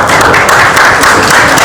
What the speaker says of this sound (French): Bravo à eux, on va les applaudir.